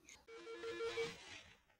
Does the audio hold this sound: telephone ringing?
yes